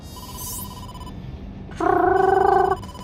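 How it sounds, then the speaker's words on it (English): Electronic phone ringing for an incoming call in the video game AI: The Somnium Files, a buzzy warbling ring that starts abruptly after a soft tone and swoosh, loud and alone, cutting off after about a second. "incoming call from the boss. Ring ring"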